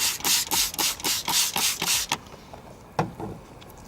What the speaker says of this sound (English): you're just gonna scuff over the scratches, okay? Just like this.